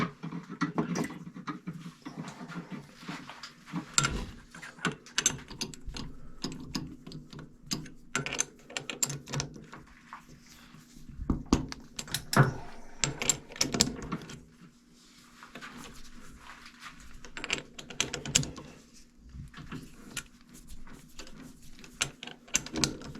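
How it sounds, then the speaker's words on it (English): Metal lathe turning a workpiece in the chuck under power feed while making knurling tool swivel pins, a steady mechanical whir with irregular clicks and clunks of the machine, close and moderately loud throughout. "we'll do a bit of a power feed here. Work is spinning in the chuck."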